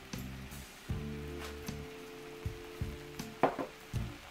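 Drained fettuccine is stirred into Alfredo sauce, giving soft wet squelching and scraping strokes in an irregular rhythm, close up, over a steady low hum, with no speech.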